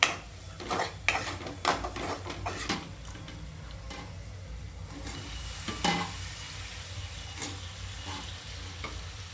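Potatoes sauté in a pan with a steady close-up sizzle, with scattered clinks and scrapes of a spoon stirring, and no talking.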